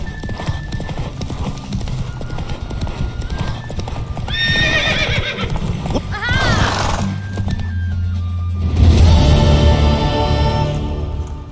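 Hooves clip-clop in a steady gallop while a horse neighs loudly twice, with game music and effects underneath, in The Witcher 3: Wild Hunt.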